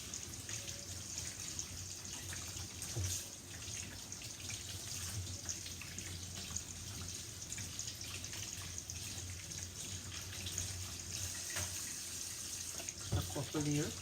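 Okra rinsed under a running kitchen tap gives a steady, faint hiss of flowing water with soft splashes and a few brief clatters near the end, with a voice heard at times.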